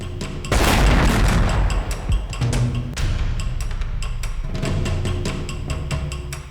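A powerful explosion bursts in a building during a police raid, a loud boom followed by a long rumbling, crackling tail with scattered debris pops fading over several seconds.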